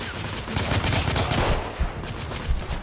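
A machine pistol fires nonstop automatic bursts in the Victorian-era shooter The Order: 1886, a loud, dense rattle of rapid shots with a brief break midway before firing resumes, no talk.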